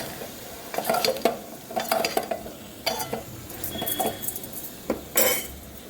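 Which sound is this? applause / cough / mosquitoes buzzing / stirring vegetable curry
stirring vegetable curry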